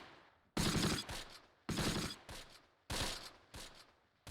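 Three sharp bursts of rifle and machine-gun fire from the World War II video game Close Combat, each a crackling volley lasting about a second, with short gaps of quiet between.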